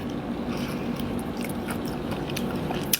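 Close, steady crunching and chewing of crisp chicken cartilage, continuous for a few seconds with no talking.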